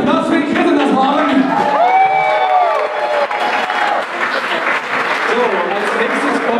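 Concert audience applauds a special guest horn player with an Irish folk band, steady dense clapping with some cheering, while musical tones ring over the crowd noise.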